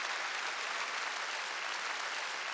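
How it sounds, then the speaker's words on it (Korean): A church congregation at a Wednesday worship service bursts into sustained applause, a dense, steady wash of many hands clapping at once, filling the room evenly from start to finish with no voices standing out. "박수 치려면 지금"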